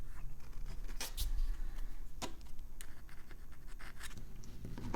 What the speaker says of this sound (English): Now move the plastic opener around properly.